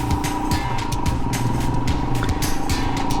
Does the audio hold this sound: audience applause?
no